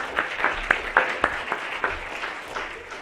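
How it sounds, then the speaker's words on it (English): A studio audience gives a brief round of applause for a contestant being called up on stage, scattered claps with a few sharp peaks, moderately loud and fading out over a few seconds. "Big round of applause for Julia."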